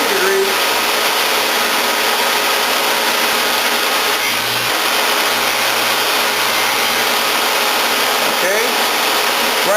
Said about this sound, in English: Grinding on the inner angle until we establish a D/4 point position.